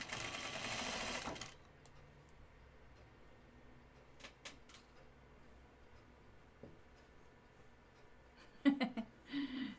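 A sewing machine stitches fabric for a caftan, whirring loudly in a short burst at the start before dropping to quiet ticks and clicks, with a few louder clunks near the end.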